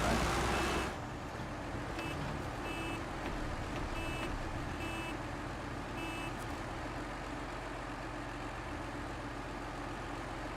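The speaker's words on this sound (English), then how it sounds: "I can hear you beeping. Where's it coming from?" Reversing beeps from a vehicle in a video game ring out in a short series of evenly spaced electronic tones, faint against a steady low engine idle hum that runs throughout, with no talk.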